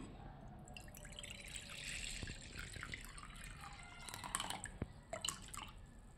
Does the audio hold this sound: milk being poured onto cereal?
yes